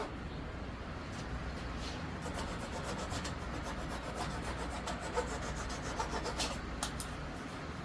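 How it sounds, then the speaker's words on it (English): Hand saw cutting wood for breadboard-end pins, a steady continuous rasping rub with fine repeated stroke texture, close and moderately loud throughout, no talking. "when you use this saw, I like to tip it like this a little bit."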